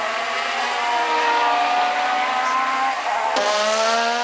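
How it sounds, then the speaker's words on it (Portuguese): Formula 1 race cars scream past at full throttle with high, whining engine tones, and one car's pitch drops sharply as it passes close by during an overtake. "Alcança a Ferrari de Berger e, numa bela ultrapassagem, toma o 4º lugar"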